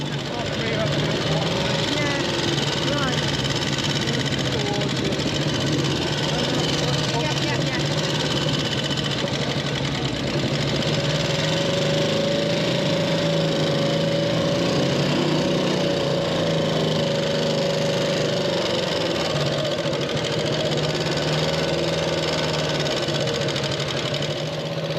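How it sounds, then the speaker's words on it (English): A single-cylinder overhead valve JAP motorcycle engine runs steadily at close range with a throbbing, mechanical chug that holds constant throughout. "The engine is an overhead valve Jap unit, so it produces lots of power and sounds really fantastic."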